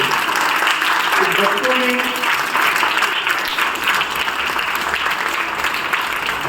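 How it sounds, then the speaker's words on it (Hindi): An audience at a charitable society's satsang gathering claps loudly for children, a sustained, even wash of applause lasting the whole stretch, with a voice speaking over it briefly. "एक बार फिर से जोरदार तालियां बच्चों के लिए भी और बच्चे अपने लिए भी।"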